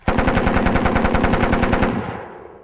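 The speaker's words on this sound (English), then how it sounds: "right on cue the German machine guns open fire" Sustained bursts of German machine gun fire from a Crossfire wargame sound effect, rapid and evenly spaced, loud and close, cutting off after about two seconds and leaving a decaying echo.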